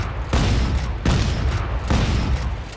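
Shotgun firing rapidly in Dead Space 3, four heavy booming blasts in quick, even succession, loud and close.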